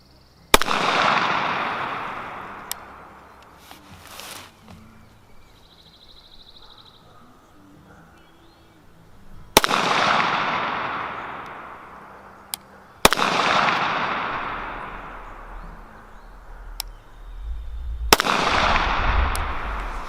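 Rifle shots fired during tactical shooting training outdoors, four sharp loud cracks spaced several seconds apart, each trailing off in a long rolling echo, with no talking.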